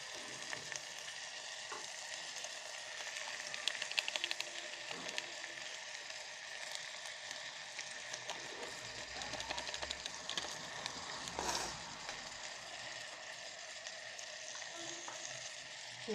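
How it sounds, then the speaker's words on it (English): Maggi masala with tomato cooking inside an electric kettle as it is mixed, a faint, steady sizzle with scattered small scrapes and clicks, quiet throughout and with no talk. "Now mix it well till the tomato is done."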